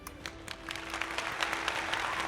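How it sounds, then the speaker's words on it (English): A handful of people clap loosely, a sparse run of sharp hand claps building slightly over about two seconds over a faint steady background hum. "Yeah. Clap."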